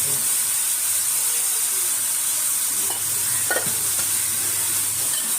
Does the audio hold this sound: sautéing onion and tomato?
yes